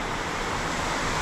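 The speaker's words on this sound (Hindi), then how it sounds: "मूसलाधार बारिश हो रही है" A steady, dense wash of torrential rain in Rishikesh, India, loud and continuous with no pauses.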